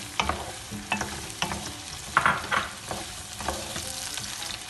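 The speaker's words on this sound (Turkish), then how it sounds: "Havucunu atıyoruz. Enginarı üzerine dök boşaltıyoruz." Artichokes and carrots sautéing in olive oil in a pan, steady sizzling broken by several stirring and tossing scrapes, close and moderately loud.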